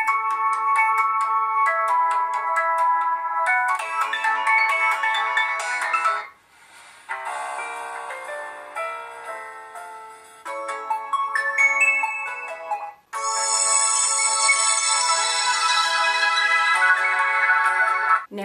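Several melodic ringtones play back to back on a bronze gold Samsung Galaxy Note 4, loud and close, with brief gaps between the tunes and no talking.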